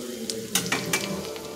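Moti, small pilaf balls, fry in hot oil with a steady soft sizzle, broken by a few brief scraping stirs of a utensil against the pan.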